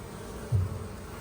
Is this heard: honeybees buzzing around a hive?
yes